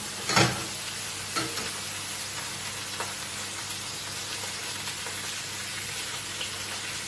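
Food sizzling and caramelising in a hot frying pan, a continuous close frying hiss with a sharp burst of crackle near the start and a few smaller stirring knocks, nobody speaking.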